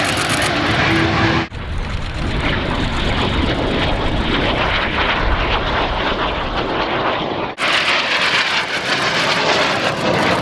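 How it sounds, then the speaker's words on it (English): A North American F-86 Sabre jet flies at the 2013 Dayton air show, producing a loud, continuous roaring rush with two brief dips as it passes. "He is flying the North American F-86 Sabre jet."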